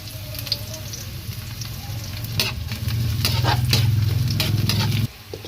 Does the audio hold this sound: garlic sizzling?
yes